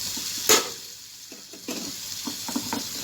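Cooked chickpeas being stirred into a masala in a pan, with one sharp utensil scrape near the start followed by a soft sizzle and a few quieter spoon scrapes close by.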